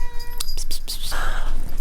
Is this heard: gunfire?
no